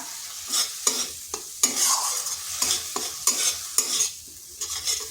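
Spice masala of cumin, coriander and chilli powder being stir-fried for a vegetarian pointed gourd curry, with a spatula scraping the pan in repeated, fairly regular strokes over a soft sizzle, close and moderately loud.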